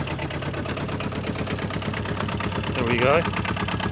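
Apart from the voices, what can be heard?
Aixam Mega Multitruck van engine idling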